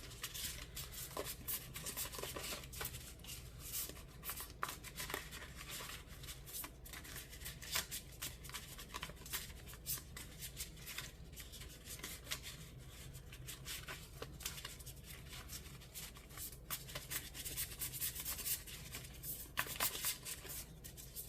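A Mystical Shaman Pocket Oracle card deck is shuffled by hand, giving a steady, continuous riffling and sliding of cards at close range, with no talking.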